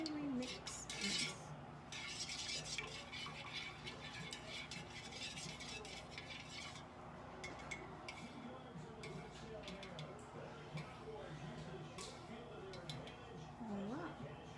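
Mixing in a bowl: a utensil scraping and clinking steadily against the bowl in a continuous quiet rhythm, with someone speaking and softly singing over it.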